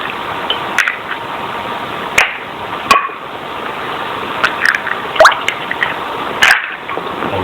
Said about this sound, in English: So I have 2 eggs, raw eggs here. I'm just going to break them into our milk.